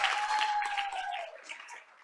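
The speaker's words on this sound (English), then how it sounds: "let's keep the energy going by giving a big round of applause to North Park Elementary School and Principal Heather Bjornberg" Audience applause for an elementary school and its principal at a board of education meeting, soft and fairly distant, fading toward the end with a faint tonal voice-like sound over it.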